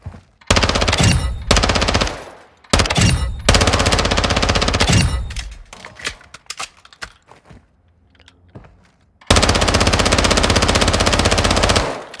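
VEL 46 submachine gun in a video game firing range, fired in long rapid automatic bursts of sharp cracks separated by short pauses and a quieter stretch of clicks before a final sustained burst.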